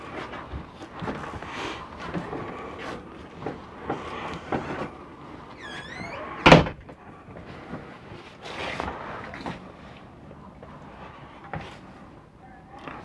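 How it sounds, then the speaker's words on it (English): Bathroom door of a 2003 Fleetwood Southwind motorhome being shut, a single sharp thud midway through, surrounded by quieter movement and talking inside the coach. "when you close this bathroom door off like this"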